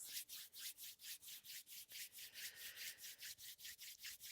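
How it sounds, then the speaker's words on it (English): Palms rubbing briskly together at a quick, even back-and-forth rhythm, close and soft with a dry swishing texture. "beginning with rubbing our palms"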